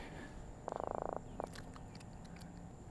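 A just-caught croaker fish gives a rapid burst of about a dozen pulsed croaks, followed a moment later by a shorter second burst. The sound is moderately close and comes over faint outdoor background noise.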